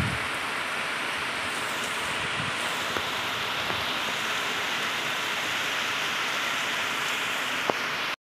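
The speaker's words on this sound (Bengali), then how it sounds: "আর এইদিকে বৃষ্টিও শুরু হয়ে গেছে" Heavy downpour of rain as a steady, even hiss throughout, with a couple of sharp drip or tap sounds standing out now and then.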